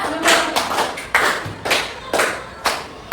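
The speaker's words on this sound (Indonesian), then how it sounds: "baik tepuk tangan dulu" A group of adults claps in a steady rhythmic pattern, roughly one sharp unison clap every half second, crisp and close, with faint voices in the background.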